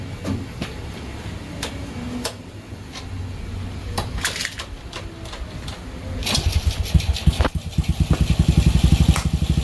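An old motorcycle, once left outdoors and now being restored, kicks over and catches, settling into a loud, rapid idle that dominates the end after scattered clanks and mechanical noise.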